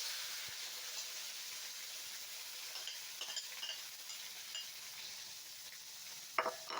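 Tomatoes frying in an oily pan for menudo give a soft, steady hiss and sizzle, with a few faint stirring scrapes and a sharper clatter near the end.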